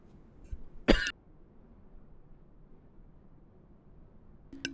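A single sharp cough bursts out near the microphone, followed by low room hum and quiet background noise with a faint click at the end.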